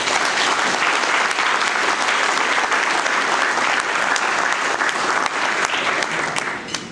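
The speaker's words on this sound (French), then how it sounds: "Vous méritez tous une bonne main d'applaudissements." Sustained audience applause fills a gala hall, a dense, steady wash of many hands clapping for nearly seven seconds with no talk over it.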